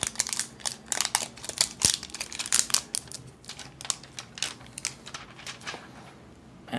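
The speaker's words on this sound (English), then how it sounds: "I'm just gonna quickly take out the covering. It's wrapped around in this nice plastic thing." Plastic wrap crinkling and rustling as it is pulled off a new Samsung Galaxy J8 phone during unboxing, a close, busy series of crackles and snaps with no voices.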